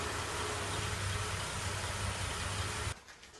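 A Mercury Monterey engine runs at a steady idle with a low, even rumble and broadband hiss for about three seconds before the sound drops away sharply.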